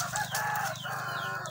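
Young Kelso and Asil gamecock stags in a breeding pen clucking and calling close by, with overlapping throaty clucks and short crowing-like cries over a steady farmyard background.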